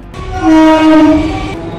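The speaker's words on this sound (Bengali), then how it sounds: "টাকিতে আসার জন্য ট্রেনটা ধরে নি আগে" A passenger train on the route from Kolkata to Taki sounds one loud, close horn blast, sustained for just over a second.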